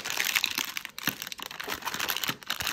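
Crinkly plastic rustling as a small sealed bag holding a connected smart light switch with a glass faceplate is torn open, close and continuous, with sharp crackles and a brief tearing burst near the start.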